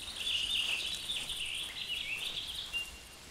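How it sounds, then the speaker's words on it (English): Birds calling outdoors, a continuous high chirping and twittering chorus, fairly faint and steady with no talking. "I hear you birds mocking me"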